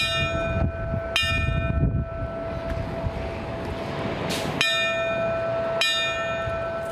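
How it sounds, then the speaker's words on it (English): A deep bell tolls four times, in two pairs of strikes, each ringing out and lingering over a steady low background rumble, at a fire department ceremony honoring fallen firefighters in Springfield. "Four bells rang to honor 26 fallen Springfield firefighters"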